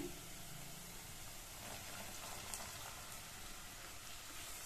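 Green beans sautéing in a pan over a high flame give a steady, close hiss and sizzle that runs unbroken from start to finish, with no voices on top.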